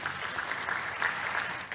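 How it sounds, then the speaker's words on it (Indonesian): A church congregation claps for Jesus during a Friday sermon, producing a steady wash of applause from many hands, moderately distant and even in level, with no voices over it. "tepuk tangan dulu sekali lagi buat Tuhan Yesus."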